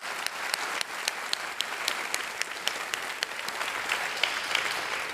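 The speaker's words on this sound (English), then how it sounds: "So it's a round of applause for Sarah." An evening lecture audience gives warm applause, dense clapping from a seated crowd, even and sustained through the moment, with no voices over it.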